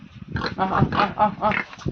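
Pigs on a small farm grunt and squeal in close, overlapping bursts, a person's voice calling to them between the animal noises.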